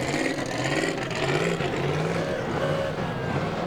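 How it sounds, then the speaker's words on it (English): A Chevy truck rolling along in a Fourth of July parade, its engine giving a steady loud rumble and drone close by, mixed with outdoor crowd noise. "Here we have Nitro Mike in his Chevy truck."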